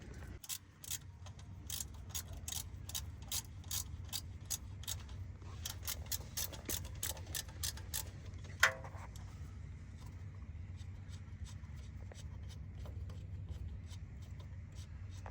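A ratchet backs out 14 mm bolts from the oil pan cover of a 2008 Acura TSX 2.4L: quick, quiet clicking runs in repeated bursts close by, with a brief metallic clink partway through.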